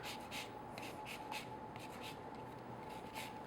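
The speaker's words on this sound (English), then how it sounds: "I'm just using one of these microplanes. You could use a box grater. And I'm just going to use the zest" Lemon zest being grated on a microplane, giving soft, repeated rasping strokes in a quick, uneven rhythm, close and fairly quiet, with no talking.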